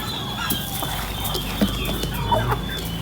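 Rhode Island chickens on a farm cluck softly and steadily, several birds close by, with a few sharper individual clucks over a constant low background hum.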